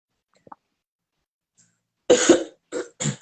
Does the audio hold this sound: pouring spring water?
no